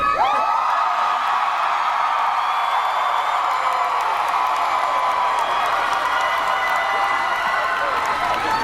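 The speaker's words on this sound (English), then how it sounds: "I'm also really excited for 5 seconds when you guys cheer as loud as you can really quick" Crowd at an Anime Expo Sailor Moon convention panel cheering loudly, a sustained roar of voices, whoops and clapping that starts suddenly and stays dense and energetic for several seconds.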